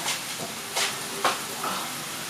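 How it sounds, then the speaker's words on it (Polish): Bread slices fry in a pan over fairly high heat, giving a soft steady sizzle broken by a few brief scraping or stirring bursts, quiet and close. "chleb i będę podsmażać na takim dość sporym ogniu"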